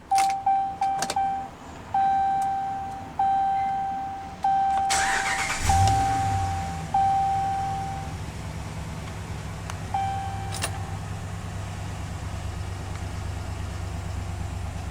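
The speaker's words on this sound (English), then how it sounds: "let's go ahead and start the engine" A 2015 Ram 1500 Tradesman Quad Cab with the 5.7 Hemi V8 gives a series of warning chimes and clicks, then the starter cranks and the engine catches with a rising roar before settling into a steady, low idle.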